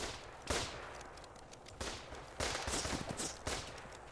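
Gunfire in a trench combat game fills the clip: repeated sharp shots and short bursts land close and loud at irregular intervals over a steady background roar, with no talking.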